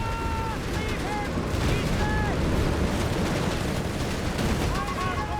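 Nebelwerfer rocket artillery fires in a Company of Heroes 3 match amid continuous battlefield rumble, with repeated whooshing rocket launches and wailing screeches over dense gunfire and explosions.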